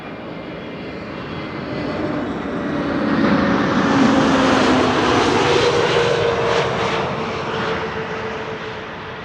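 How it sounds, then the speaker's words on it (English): Airbus A320neo jet arriving from Milan at Amsterdam Schiphol, its engine roar swelling steadily as it passes close overhead, peaking midway, then easing off as it moves away. "This is an A320neo arriving from Milan"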